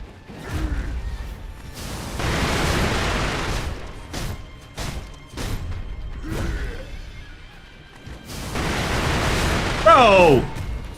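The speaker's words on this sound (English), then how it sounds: "Hey, get stunned when I hit you with fireworks." Heavy crashing bursts and booming impacts as fireworks strike an enemy in Sekiro, loud and repeated, rising again toward the end with a brief whistling squeal.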